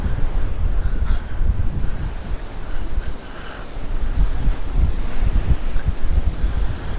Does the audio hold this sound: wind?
yes